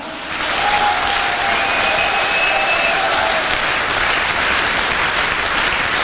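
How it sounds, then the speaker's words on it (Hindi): An audience at a network marketing seminar in a hall breaks into loud, sustained applause. The dense clapping swells quickly and continues evenly to the end. "दमदार ताली होनी चाहिए, दमदार।"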